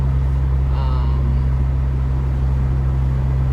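A BMW E46 330ci engine runs after a full clutch replacement, heard from inside the car as a steady, low, constant hum with a voice talking briefly over it.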